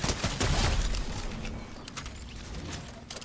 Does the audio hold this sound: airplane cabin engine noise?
no